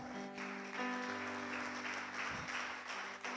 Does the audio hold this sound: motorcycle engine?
no